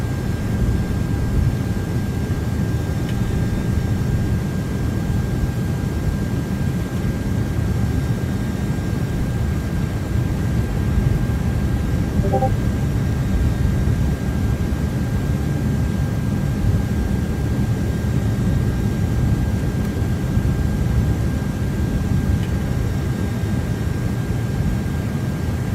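An American Airlines Airbus A330-300 lands in Microsoft Flight Simulator 2024, with a steady, loud, broadband engine and airflow roar holding evenly throughout and a faint whine running through it.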